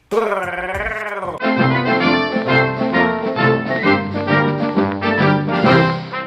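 A four-piece rock band from Melbourne, Australia plays a driving song, guitars and drums dense and loud, after a brief thinner intro with a wavering lead tone.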